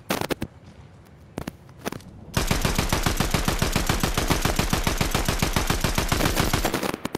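Video game gunfire in a battle royale match: a few separate shots, then a long rapid automatic burst of loud evenly spaced cracks that continues to the end, with no speech.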